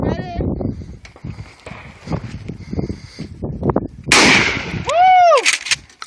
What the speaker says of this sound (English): take a video of me shooting a shotgun